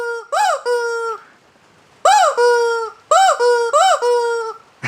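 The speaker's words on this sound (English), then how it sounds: "A rubber chicken!" A squeezed rubber chicken toy squawking loudly in three bursts, each a harsh, rising-and-falling honk with short gaps between, close and alone.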